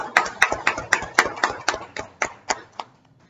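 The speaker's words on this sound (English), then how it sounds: "let's give a round of applause" A Toastmasters meeting audience gives a guest a short round of applause, roughly a dozen distinct claps in a quick regular pattern, close and crisp, fading out toward the end.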